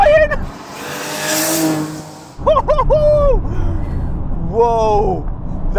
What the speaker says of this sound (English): I love the way the turbos come in.